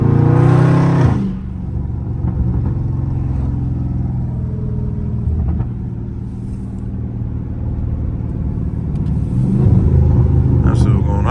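A Dodge Scat Pack revs hard at first, then drops to a rumbling, throaty cruise as it is driven aggressively through a residential neighborhood, with the engine swelling again near the end.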